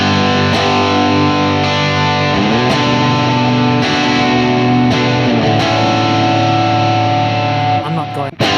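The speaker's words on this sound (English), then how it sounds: "And with delay and reverb" Electric guitar played through delay and reverb effects, a loud sustained wash of ringing chords with new strums every second or so, the echoes smearing together continuously.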